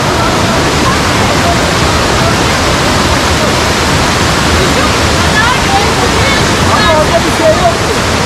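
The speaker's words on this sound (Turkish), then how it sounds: "Oraya şelalesi geldik" Ava Ore waterfall roars with steady, loud rushing water throughout, a dense continuous wash with faint voices barely audible beneath it.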